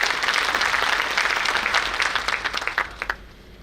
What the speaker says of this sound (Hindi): उनके लिए भी ताली बजा दो भी जोरदार